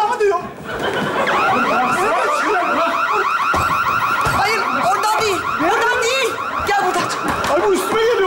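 A bank alarm blares nonstop at close range during a comedy stage sketch, a steady loud wailing tone with audience laughter and chuckles rising over it.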